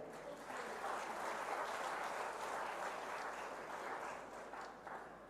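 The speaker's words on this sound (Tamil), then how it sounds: "அந்த மாதிரி கைத்தட்டுங்க" A crowd at a Tamil political gathering claps in a faint, continuous patter heard from a distance, steady throughout with a slight swell in the middle.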